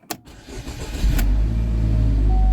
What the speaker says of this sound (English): Let's go try starting up the car.